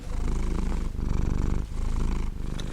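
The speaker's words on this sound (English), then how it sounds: "Maji Purrs." A cat named Maji purrs close up, a steady, rumbling purr whose breaths swell and fade in regular cycles under nothing else.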